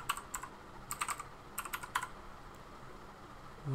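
Text being typed on a computer keyboard, a few short clusters of crisp nearby keystrokes over a quiet background hum, with no voices.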